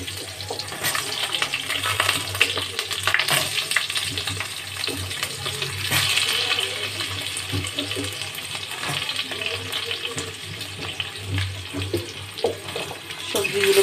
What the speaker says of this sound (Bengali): সবজিগুলোকে দিয়ে দেখো ভালো করে একটু নাড়িয়ে চালিয়ে হালকা লাল হতে দেবো